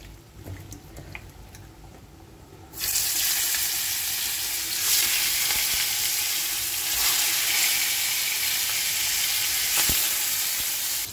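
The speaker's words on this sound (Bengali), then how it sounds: "এখন আমি মাছটা ভাজা করব।" Salmon pieces dropped into hot white oil in a wok, a quiet room suddenly bursting into a loud, close, continuous sizzle with crackling spits that holds steady to the end, no voices.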